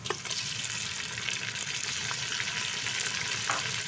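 Onions fry in a pan while being stirred to brown evenly, a dense continuous sizzle up close with faint scrapes of the spoon now and then.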